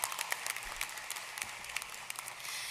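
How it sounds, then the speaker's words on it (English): Graduating senior class applauding at a high school graduation ceremony in a convocation hall, faint, distant clapping with scattered individual claps over a soft crowd wash. "Give yourselves a round of applause for looking absolutely stunning today."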